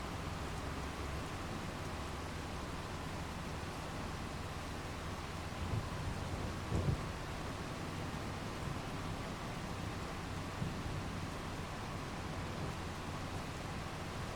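Rain in Farming Simulator 25 on a field map: a dense, even wash of steady rainfall with a few faint low thumps, constant throughout and with no voices.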